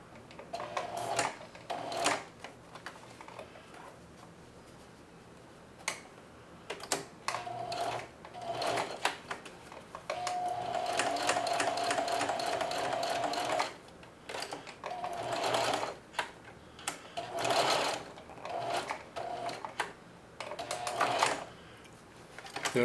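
A sewing machine running straight stitches to tack down an apron strap, whirring in short, close bursts that stop and start, with one longer steady run in the middle.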